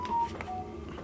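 A mobile phone chimes with short electronic notification tones, two brief beeps separated by a pause, faint in a quiet room.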